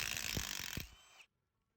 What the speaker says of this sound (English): Now it's time to get all the bolts out of this cover. These are 13 millimeters.